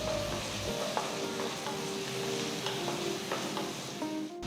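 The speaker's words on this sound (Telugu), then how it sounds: "నూనె వేడెక్కిన తర్వాత ఇందులో ఒక టీ స్పూన్ అంత జీలకర్ర చిన్నగా తరిగిన ఒక పెద్ద ఉల్లిపాయ వేసి రెండు మూడు నిమిషాలు వేయించాలి" Cumin seeds and chopped onion frying in hot oil in a kadai make a dense, constant close sizzle with light stirring scrapes and faint tonal hums underneath, no voices.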